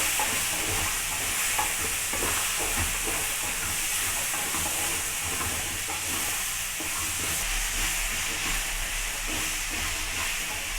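Beans, peas and potato pieces fry with turmeric in a pan while being stirred, a steady close sizzle and hiss with scraping stir strokes throughout, no voices.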